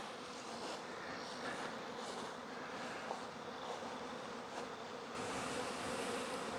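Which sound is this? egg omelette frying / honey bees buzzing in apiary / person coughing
honey bees buzzing in apiary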